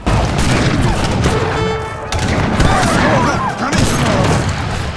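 Dense, loud battle gunfire and booming blasts from a strategy video game with cannons and slingers crash continuously, layered with rapid shots and explosions throughout.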